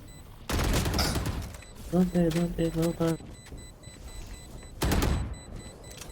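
Gunfire rings out in a competitive shooter game: a loud burst, then a rapid run of about eight evenly spaced shots, then another loud burst, with a player talking between the shots.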